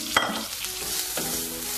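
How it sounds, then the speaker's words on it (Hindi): One medium onion sautéing lightly in butter in a pan on a gas stove, a soft continuous sizzle with a brief clink of stirring near the start, steady and close. "अनियन हमारा बटर में सौते हो गया है"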